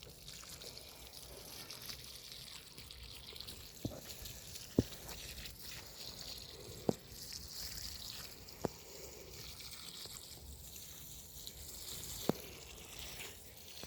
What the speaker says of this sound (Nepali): यहाँ चाहिँ हामी पानी लाउँदै छु